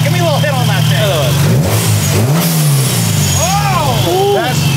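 A supercharged B18-swapped Honda Civic Si making about 400 hp, revving at close range with rising and falling throttle blips and a high supercharger whine sweeping over the steady engine drone, loud throughout.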